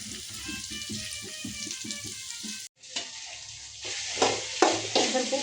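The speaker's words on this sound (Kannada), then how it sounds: "ಸ್ವಲ್ಪ ಉಪ್ಪು, ಸ್ವಲ್ಪ ಎಣ್ಣೆ ಹಾಕಿ ಹುರಿಯಾಕತ್ತೀನಿ" Okra sizzles in oil in a pan with scraping stirs, the frying crackle briefly cutting out, then returning louder with bursts of spitting.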